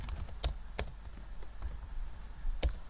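Keys are tapped on a computer keyboard while Java code is written in Android Studio, with light irregular clicks and a few sharper strikes, close and fairly quiet, without speech.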